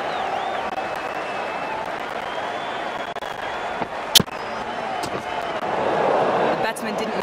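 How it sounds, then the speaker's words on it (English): An excited crowd at an England versus Australia Ashes cricket match roars and cheers with a broad, sustained din, including a sharp crack partway through and a swelling surge of noise near the end. "It's going to be hard for the bowler to focus with the crowd this excited."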